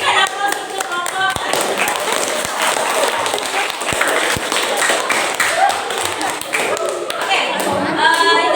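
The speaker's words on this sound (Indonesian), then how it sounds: "Berikan aplaus untuk kelompok." A group in a classroom applauds with dense, close clapping that continues steadily, joined by a few light voices and chuckles.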